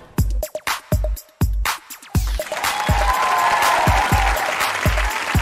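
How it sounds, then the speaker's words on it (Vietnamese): Studio audience on a Vietnamese dating game show: a few sharp isolated claps or hits at first, then swelling into loud, dense, continuous applause from a large crowd close up. "Vỗ tay dữ vậy"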